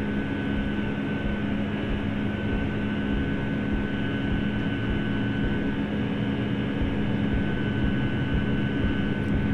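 Simulated QualityWings 757-200 engines on the takeoff roll in Flight Simulator, a loud, steady, unbroken roar with a constant high whine running throughout.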